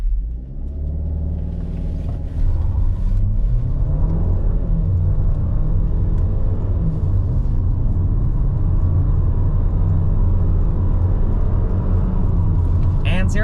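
A 2024 Chevy Equinox RS with a turbocharged engine launches from a brake-rev for a 0-60 run with traction control on, at high altitude. The engine gives a loud, sustained droning rumble that builds steadily, with talk heard over it.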